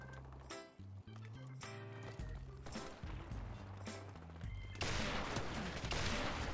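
Shotgun blasts and gunfire from the Modern Warfare Remastered shooter in its gun game mode, dense overlapping shots with music-like tones early, then a loud sustained burst of fire toward the end.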